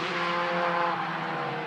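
A modified Ford race car powers out of Church Corner at Anglesey circuit, its engine a sustained, loud, strained buzz as it drifts slightly through the bend, with no voices.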